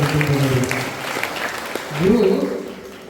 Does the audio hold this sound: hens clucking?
no